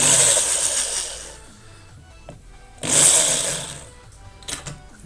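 Power drill boring into the body of a Mini R50/R53/R56 hatch for a spoiler fitting, a loud whining burst at the start and another around the third second, with quieter gaps and brief clicks between.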